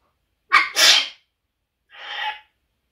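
A pet parrot sneezes three times, close and crisp, two quick sneezes back to back, then a short pause and a softer third, with no other sound around them.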